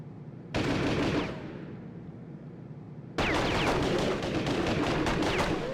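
Gunfire in the video game Skyscraper, loud bursts of rapid automatic shots with a ringing tail between them, close and alone without talk.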